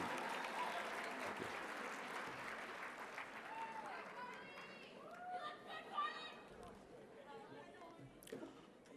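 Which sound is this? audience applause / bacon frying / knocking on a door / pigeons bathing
audience applause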